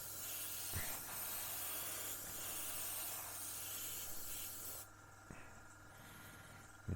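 Airbrush spraying paint onto the wing of a 1/35 Spitfire Mk Vb scale model, a steady close hiss running for several seconds before easing off, with a few faint taps.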